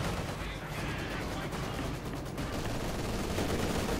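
Maxim machine gun fire in the Company of Heroes 2 game, a dense continuous wash of gunfire and battle noise that stays loud and steady throughout without a clear break.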